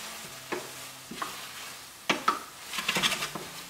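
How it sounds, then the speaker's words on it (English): A spoon stirs vanilla bean paste into a pot of cooked apple filling with the flame turned off, giving a few soft, separate scrapes and taps against the pan that are quiet and close, with no talking. "I'm going to stir it in."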